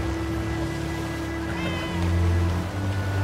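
A cat meows briefly in the pirate game Sea of Thieves, a short tonal cry partway through, set over a low ambient wash that sounds like sea and boat noise.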